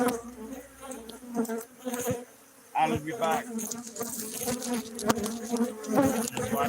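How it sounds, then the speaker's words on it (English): Dense buzzing of honey bees around a beekeeping hive, a steady close swarm drone that keeps going under a short spoken remark. "Just watch the bees."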